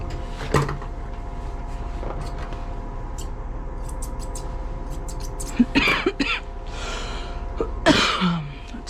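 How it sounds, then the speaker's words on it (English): A person coughs a few times after breathing in a cleaning spray, with short close bursts and gasps spread across the clip over a steady background hum. "That spray always makes me cough."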